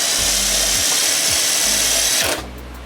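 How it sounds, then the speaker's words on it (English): A power drill drives screws into a Dodge Charger wide body panel, whirring loudly in two or three short bursts close by before cutting out. "I'm gonna put all the screws in here"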